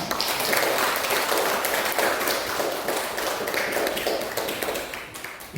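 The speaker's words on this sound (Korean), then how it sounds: "크게 박수 한번 합시다." A church congregation claps together in a broad, sustained round, dense and even throughout with individual hand claps standing out in the wash, easing slightly toward the end.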